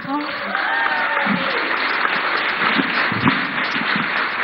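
Conference audience at the India Today Conclave applauding and cheering, a dense continuous burst of clapping with a voice speaking over it.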